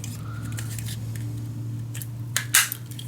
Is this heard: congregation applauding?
no